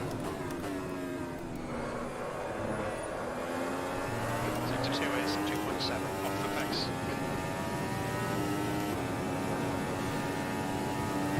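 A Formula Ultimate 2017 race car in the Automobilista sim at Interlagos holds full throttle, its engine a steady rising whine through the gears beneath someone talking.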